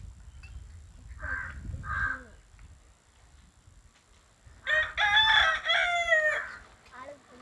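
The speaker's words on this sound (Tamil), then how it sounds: "கோழி வேற கூவிட்டே இருக்கு" A rooster crows in a home setting: two short clucking calls first, then one full, loud crow a few seconds later, with faint background noise between.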